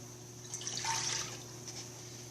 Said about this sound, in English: Now I need to put in the whole milk. Same exact amount, 1 cup.